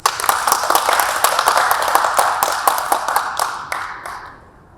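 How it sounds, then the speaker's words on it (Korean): Crisp audience clapping for Professor Lee Kyu-in at an architecture and urban forum in Sejong City Hall, fairly close with distinct individual claps, dying away over the last second. "큰 박수 부탁드립니다."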